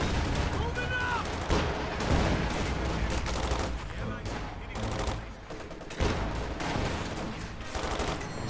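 Video game battle with dense gunfire as snipers and infantry trade shots, overlapping bursts and cracks forming a constant loud fusillade, with a voice faintly audible underneath.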